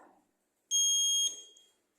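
A buzzer switched on by a PLC output gives one steady, loud electronic tone lasting about half a second before cutting off, heard alone in a quiet workshop setting.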